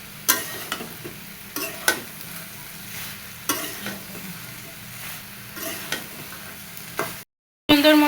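Spices and vegetables sizzle in a pan during a Bengali vegetable curry as the masala is fried down, with steady frying hiss and a stirring scrape every second or so, a brief silence, then a louder burst at the end.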